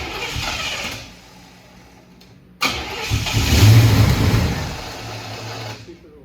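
A Chevrolet Monte Carlo SS being started for the first time in over 10 years: the engine cranks, falls quiet for a moment, then fires and settles into a loud, rough, rumbling idle close by before fading near the end.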